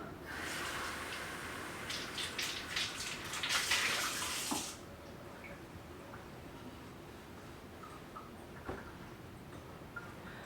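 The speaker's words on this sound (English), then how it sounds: "Warm water or hot water so the teacup doesn't cool down the hot water once it goes in." Hot water poured into a teacup to warm it before brewing a pot of tea, a bright splashing pour for about four seconds that then stops, leaving quiet room tone with a few faint clinks.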